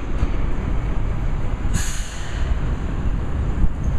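An LIRR commuter train rumbles steadily past at Jamaica station, a broad, continuous roar that is moderately close, with a brief hiss of air brakes partway through.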